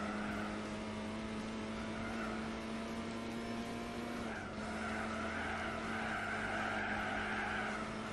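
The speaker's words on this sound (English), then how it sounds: "Just drifting around all these corners." A front-wheel-drive VW Lupo in a Gran Turismo 4 one-make race, engine droning steadily while tyres squeal and skid through drifting corners, with a brief dip midway before the noise builds again.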